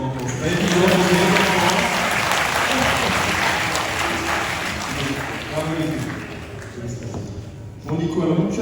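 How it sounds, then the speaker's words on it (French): An audience at a school musical comedy show applauds in a long, full round of clapping that slowly fades, with a voice speaking over it near the end. "Je vous demande des applaudissements pour ça."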